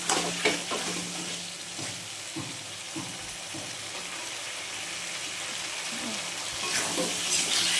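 A spice mixture with salt is sautéed in oil in a pan, giving a constant soft sizzle. Scattered stirring knocks and scrapes come early on, and the sizzle swells near the end.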